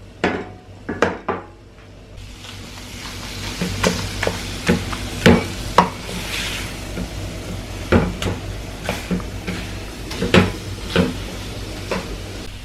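Dates roasted and stirred in a pan, with milk thickening, for a sugar-free date barfi: a steady run of close scraping and clinking utensil strikes against the pan, irregular but continuous, with no voices.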